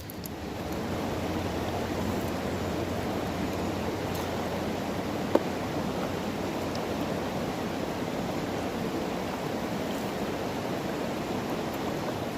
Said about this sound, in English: let's get another bucket ran through the sluice.